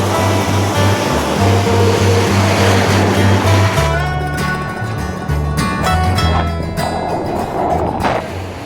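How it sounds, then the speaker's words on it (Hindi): Sea waves surging onto Bagda Beach in Odisha, a loud continuous roar of surf with rushing water up close, overlaid by a low tonal hum that fades partway through. "समंदर की हर लहर अपने साथ एक नई खुशी लेकर आ रही थी।"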